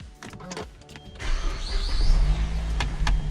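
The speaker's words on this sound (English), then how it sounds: "So let's start the car and check." A 2010 Mazda 6 engine starts after a short cranking whir, then settles into a low, steady idle close by, with a few light clicks scattered over it.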